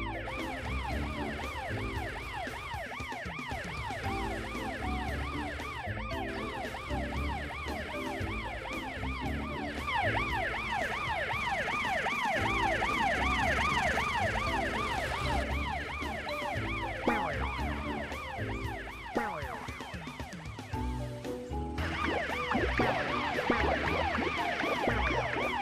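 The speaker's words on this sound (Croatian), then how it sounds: "Tysone, možeš li čuti sirene iza sebe?" A cartoon police car siren wails continuously in a repeating rising and falling cycle, loud and close with no talk, over a faint background of vehicle sound.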